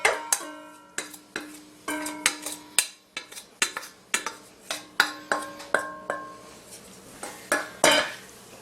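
Parboiled leek and onion tipped into a bowl of squeezed spinach, heard as a string of close, sharp clinks and knocks of a utensil against the bowl in an irregular rhythm, with no talking.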